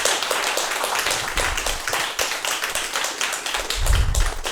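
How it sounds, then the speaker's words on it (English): Audience applause at a community talk, a steady wash of many hands clapping close and loud throughout, with no speech over it. "Can we get a round of applause for Denise Rue?"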